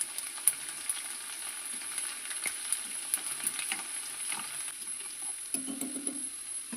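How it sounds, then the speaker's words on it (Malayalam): Mustard seeds and urad dal frying in coconut oil, a soft, steady sizzle dotted with small crackles and pops, fairly quiet and close, with faint stirring clinks. "കടുക് പൊട്ടി വരുമ്പോൾ അതിലേക്ക് കുറച്ച് ഉഴുന്ന് ചേർത്ത് കൊടുത്ത് ഒന്ന് മൂപ്പിച്ചെടുക്കണം"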